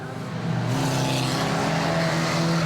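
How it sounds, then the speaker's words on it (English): Ministox stock cars race around a club oval circuit, their engines roaring in a loud, continuous blend of revving motors as the pack passes close by, with no voices over the noise. "Chris Turner now catching up the lead car."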